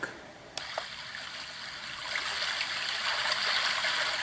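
Steady babbling brook track played from a battery-powered portable nature sound machine, a continuous bright trickling wash of running water that swells a little louder partway through, with no voices.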